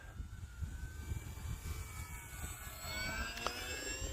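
A Durafly Tundra V2 RC airplane flies overhead below full throttle, its thin electric motor whine faint and distant, rising and falling in pitch as it manoeuvres.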